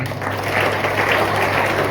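An audience at a yoga teacher's talk in Seoni claps together in a steady, dense wash of applause that lasts the full two seconds.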